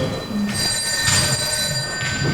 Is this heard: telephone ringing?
yes